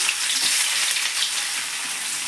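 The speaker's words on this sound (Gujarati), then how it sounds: "આપણે પહેલાં હિંગ નાખી દઈશું પછી આપણે એની અંદર ડુંગળી સાતરી લઈશું" Onion sautéing in hot oil with asafoetida for rava uttapam gives a dense, steady sizzle with light stirring, loud and close, with no voices.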